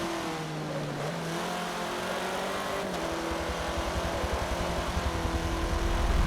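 Off-road buggy engine in the racing game Forza Motorsport 7, a steady loud droning whine with shifting pitch, the revs climbing and growing rougher and more pulsing toward the end, with no talk.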